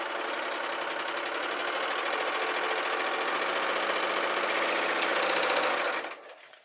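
A sewing machine runs continuously down a straight seam in Liverpool double knit fabric, a loud, fast, steady whir close by that slows and trails off at the end, with no talking.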